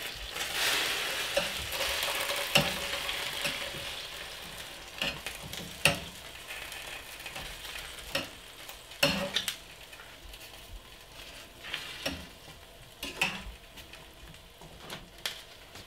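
Peppers roast in a pan with a soft ongoing sizzle while tongs flip them, producing repeated sharp metallic clicks and taps spaced a second or two apart.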